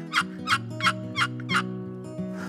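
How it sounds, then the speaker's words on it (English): Five evenly spaced yelping turkey notes scraped from a wooden box call, close and clear, with a faint tonal hum underneath and a softer sixth note at the end. "You can do cuts, putts, cackles, everything that a turkey does on a box call."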